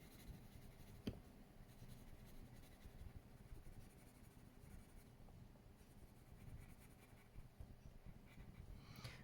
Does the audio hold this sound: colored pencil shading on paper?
yes